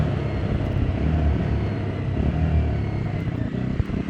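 A Triumph Scram 350 engine holds a steady, loud drone at fairly high revs with slight surges as gears change, heard close and continuous without speech.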